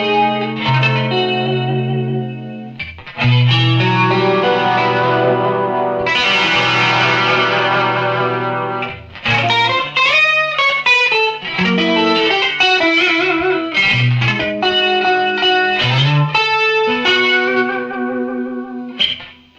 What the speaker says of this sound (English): And reverb, maybe a bit more into the mix. I'm gonna go with spring.